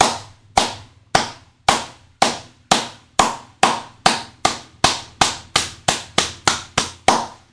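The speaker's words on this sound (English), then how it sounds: "Clap it up." Hands clap in a steady, sharp rhythm, about seventeen crisp, loud claps that come slightly faster toward the end, each one ringing briefly in a small room with nothing else heard between them.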